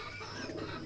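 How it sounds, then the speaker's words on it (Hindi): Pigeons cooing in a morning feeding area, a soft, steady murmur of coos close by that lasts through the whole short moment, with no talk. "कबूतर चेक करें इनको"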